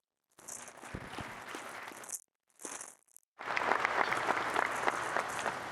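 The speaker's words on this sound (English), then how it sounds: "Please give them a round of applause." An audience at a press event introducing a new West Virginia University head coach applauds staff members, with clapping that starts, briefly cuts out twice, then returns as a fuller, sustained round of applause.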